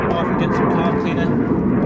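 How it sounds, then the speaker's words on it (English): A Johnson 4 hp Seahorse two-stroke outboard engine runs right after starting on carb cleaner, giving a loud, steady, dense drone that holds for the whole clip with a voice over it. "There you go, it's running straight away."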